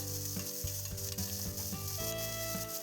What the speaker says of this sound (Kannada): 2 ರಿಂದ 3 ಒಣಮೆಣಸಿನ್ಕಾಯಿ, 1 ಈರುಳ್ಳಿ, ಸ್ವಲ್ಪ ಕರಿಬೇವು, ಇಷ್ಟನ್ನು ಒಗ್ಗರಣೆಗೆ ಹಾಕ್ಕೊಂಡು ನೀಟಾಗಿ ಫ್ರೈ ಮಾಡ್ಕೋಬೇಕು.